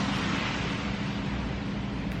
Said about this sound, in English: Sorry if you hear all of the raining outside.